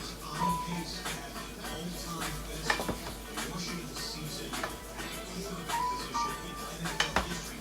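Food sautés in a pan on a home stove with a soft, steady sizzle, broken up by occasional clinks of a utensil against the pan while someone talks.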